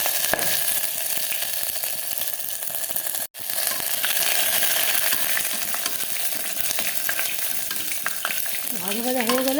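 Bay leaf, cumin seeds, two dried red chillies and ginger fry in hot oil in a home kitchen, a loud, steady, close crackling sizzle that runs unbroken apart from one momentary dropout.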